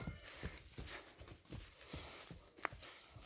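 A mare's hooves clip-clop in a slow, uneven rhythm at moderate distance, with a faint snort or call partway through.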